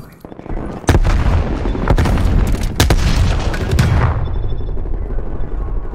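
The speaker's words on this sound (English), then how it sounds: "These guys are throwing frag grenades." Frag grenades explode in a shooter video game: several heavy booms and sharp bangs, some close and loud, rolling into a noisy rumbling tail of battle sounds.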